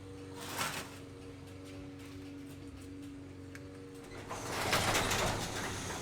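A home garage door rolls shut, a long mechanical rumble with faint ticking and rattles, louder and scraping toward the end, heard at moderate distance with a steady hum underneath and no one speaking.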